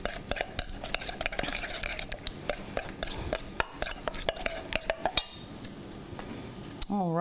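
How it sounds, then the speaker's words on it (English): A spoon stirring a sweet corn mixture with chopped cilantro, giving rapid close clinks and scrapes against the bowl that slow and thin out toward the end. "I'm going to stir this around, get it nice and mixed up"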